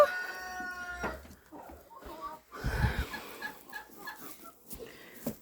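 A hen clucks in a farmyard shed where she lays, with a rooster-like call early on, and someone speaks to her intermittently between the soft, nearby clucks.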